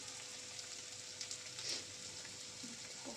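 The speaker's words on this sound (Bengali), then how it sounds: "এগ পাস্তার জন্যে পেঁয়াজটাকে ভালো করে ফ্রাই করে" Onions fry in a pan for egg pasta, giving a faint, even sizzle with soft hiss throughout and no talking.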